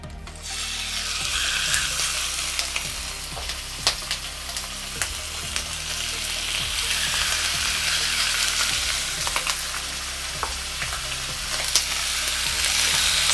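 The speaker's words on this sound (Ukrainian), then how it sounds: "У мене гриль вже розігрівся, гарно розігрівся. Додаємо олії небагато. І викладаємо м'ясо." Steady, loud sizzling and crackling of meat frying in a little oil on a hot grill at maximum heat, with scattered pops and occasional clinks throughout.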